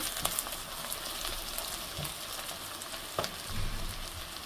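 Onions and bay leaves fry in a pan for a fish curry, making a continuous quiet sizzle of oil with a few light clicks and scrapes of stirring.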